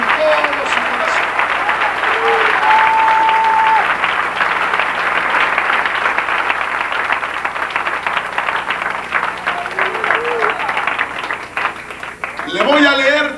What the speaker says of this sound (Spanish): Denle un aplauso al Señor, pero con todo su corazón.